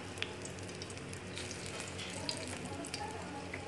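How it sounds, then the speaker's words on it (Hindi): Breaded chicken wings frying in hot oil make a soft, steady sizzle with occasional faint pops, heard alone without voices. "अब हम इन्हें करेंगे फ्राई। तेल हमारा गर्म हो चुका है,"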